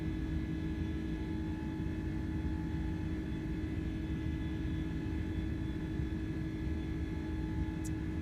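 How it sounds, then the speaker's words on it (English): Airbus A310 engines in Microsoft Flight Simulator give off a steady, even jet rumble with a constant high whine, heard from inside the cabin and without talking. "Even the sounds of the plane leaving the ground you could hear."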